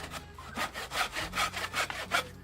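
A hand saw rasps back and forth through wood in quick, rhythmic strokes, close and distinct, with a faint low hum underneath.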